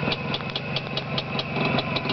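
Restored engine of project 559 runs at idle nearby, a steady throbbing rumble with regular ticking pulses.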